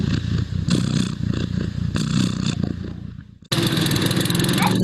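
A lawnmower engine runs steadily and close, a loud continuous drone that dips briefly and then returns at full strength with a brighter, harsher roar.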